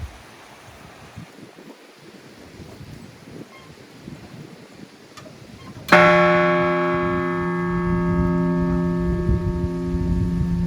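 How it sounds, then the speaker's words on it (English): A big bronze bell, once part of the old Lansing City Hall clock tower and now at the Presque Isle lighthouses, strikes once. The loud gong rings on with a long sustained tone over a background of wind and surf. "You might have heard the bell gonging in the back occasionally."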